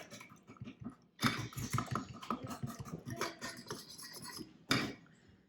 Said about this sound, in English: And I'm going to just whisk, whisk, whisk, whisk, whisk.